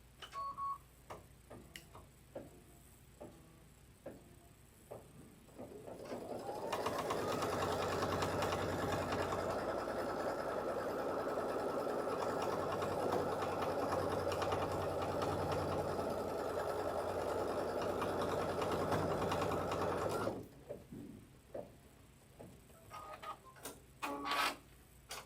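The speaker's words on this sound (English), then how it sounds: "And then we'll slide our hoop back in and run the folding stitch." An embroidery machine stitches a folding line on fabric held in a hoop. Its rapid mechanical whirring builds in, runs steadily for about fourteen seconds, then stops, with scattered small clicks and handling noises before and after.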